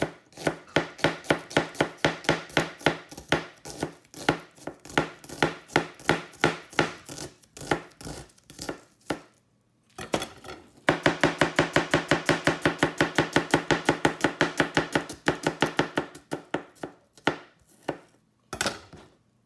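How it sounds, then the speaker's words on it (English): Rapid, steady knife strokes from a Japanese chef knife slicing salad vegetables on a cutting board, a long run of crisp close chops, a short pause, then another fast burst and a few final cuts. "I'm going to do kind of a fast chopping like this, using my hand as a guide, pinching it"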